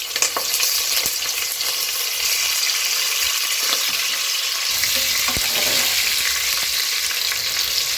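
Onions and curry leaves frying in hot oil in a pan, a loud, constant close sizzle with a few stirring scrapes and taps, no voices.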